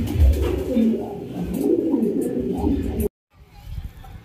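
Racing pigeons coo softly and repeatedly nearby while someone talks over them; the sound drops out briefly before faint cooing returns.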